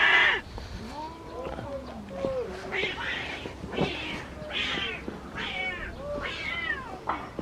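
Stray cats fed chicken necks outdoors let out a rapid series of loud, rising and falling meows and yowls, several cats calling over one another in quick succession.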